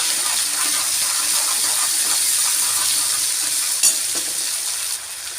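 Poppy seed paste, added after ginger and green chilli paste with salt, fries in hot oil with a steady, close sizzle and light stirring throughout, with a brief clink near the end.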